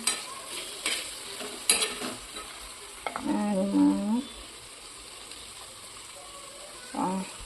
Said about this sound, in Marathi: कांदे आणि टोमेटो अच्छे से मिक्स कर लेती हूँ